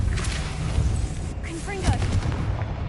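Confringo fire spell cast in Hogwarts Legacy, a series of deep rumbling blasts and booms layered with whooshing game effects, up close and loud, with a character voice speaking over them.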